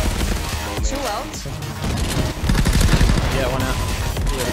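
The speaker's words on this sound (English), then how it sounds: "Spaz heard the gunfire, turned to get the shot on Rantro" Rapid automatic gunfire in a VR shooter game, loud and dense bursts filling the clip, with a second heavier volley partway through.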